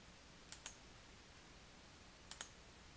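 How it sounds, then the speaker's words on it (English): Two pairs of quick, crisp computer mouse clicks on an OK button in Outlook, each pair a fast double tap, separated by a pause and heard close and alone against faint background hiss. "When you are ready, then click the OK button to recover any selected deleted items."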